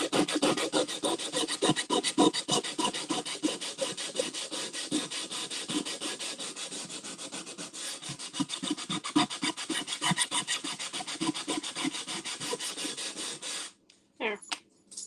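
Steady scrubbing of a rusty cast-iron pan, a rapid, continuous rasping rub close up for most of the stretch, breaking off near the end into a few scattered scrapes.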